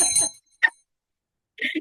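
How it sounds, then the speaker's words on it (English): A small hand bell, like a bicycle bell, is rung at an evening awards event: a burst of bright rings, a single short ding, then another ringing burst, with quiet gaps between. "You haven't been ringing the bell."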